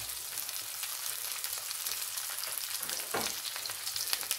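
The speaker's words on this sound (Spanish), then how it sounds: "Luego de unos segundos también ponemos los ajos." Garlic goes into a pan where onions are already frying, giving a steady, close sizzle throughout with a brief louder crackle near the end.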